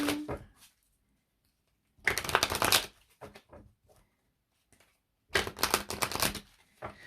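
An oracle card deck is shuffled by hand at close range in two brisk bursts of riffling, with quiet gaps and a few soft taps and card handling sounds between them, and a third short burst at the end.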